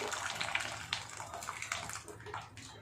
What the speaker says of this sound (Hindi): देखिए, ये हम दाल इसमें ट्रांसफ़र कर रहे हैं।